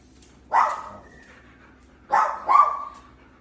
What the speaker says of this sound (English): Your dog barks like the other dog did.